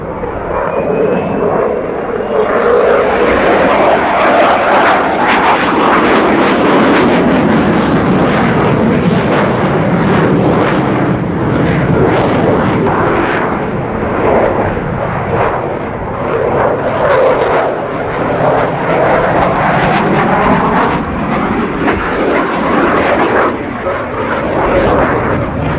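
Swiss Air Force F/A-18 Hornet jet flying a display routine with pirouette manoeuvres at an air show, a loud continuous roar that swells and shifts in pitch as the fighter wheels overhead.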